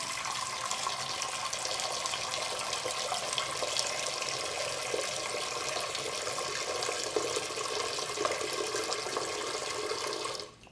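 Tap water runs steadily into a pot, filling it for boiling spaghetti in a home kitchen: a close, even splashing rush that carries on without a break, then stops abruptly at the end, with no talking.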